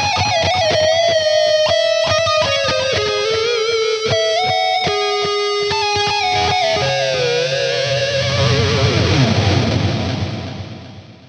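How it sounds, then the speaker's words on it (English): An electric guitar through a BOSS GT-1000 Core plays a descending run of notes washed in thick, dense ambience reverb that swells and lingers into a long fading tail. "this ambience reverb. Let's turn the density up on it"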